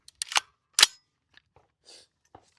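A rifle is loaded with a single-round magazine and made ready: a few sharp, close metallic clicks and clacks, then softer handling taps amid quiet pauses.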